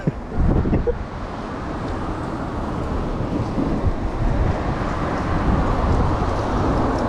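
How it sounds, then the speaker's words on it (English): Strong wind blows steadily outdoors on a street in Paramaribo, a loud continuous rushing roar buffeting the microphone, with a brief gust at the start and no talk. "The wind is winding extra hard this time."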